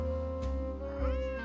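A spooked cat in the Nancy Drew game Dossier: Lights, Camera...Curses! lets out a drawn-out, wavering meow, close and clear, heard alone.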